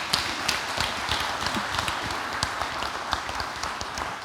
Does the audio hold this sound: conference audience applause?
yes